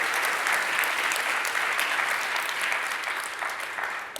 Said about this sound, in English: So if you could just give him a round of applause, I really appreciate that.